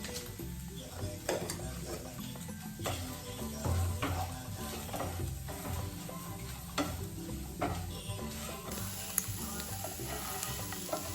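Food sizzling and frying in a pan until golden brown while being stirred, with steady close sizzle and occasional utensil scrapes and clinks against the pan throughout.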